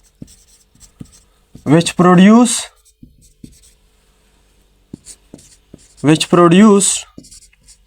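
A chemistry definition being written out by hand, with faint, short scratchy strokes and taps that fall in the pauses between bursts of speech.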